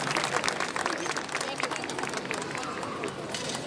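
A crowd applauds a marching band at an outdoor event in Perote, Veracruz, steady dense clapping with a background hubbub of voices throughout.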